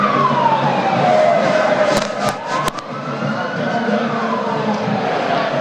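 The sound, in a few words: sirens wailing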